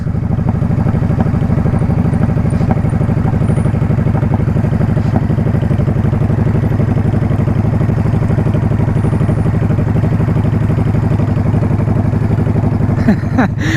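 A motorcycle engine running at a steady idle, a loud continuous low rumble with a regular pulsing throb and no change in pace, with a brief clatter near the end.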